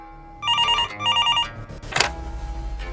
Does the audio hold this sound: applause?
no